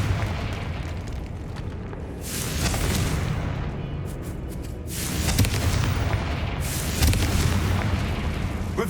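Confringo spell blasts in Hogwarts Legacy, a dense rumbling roar of booming explosions that surges and swells continuously, loud and close with no voices.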